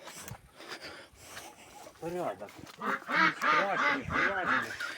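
Several geese honk repeatedly nearby, overlapping nasal calls in a quick series, with people talking quietly in the background.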